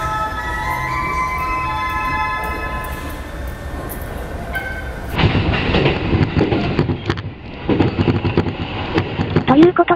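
A Keiyo Line train departing Shin-Urayasu at night rumbles along with rhythmic clatter and rail noise, loud and close. Earlier there is a quieter stretch with tonal hum and faint voices.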